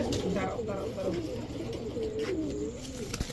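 Soft, low cooing from a young female pigeon repeats in a steady murmur, close by, with people talking over it.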